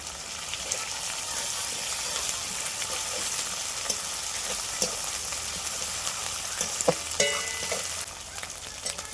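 Ginger paste fries in a pan of oil for an egg curry, giving a steady, moderately loud sizzle with occasional spatters and utensil clinks against the pan.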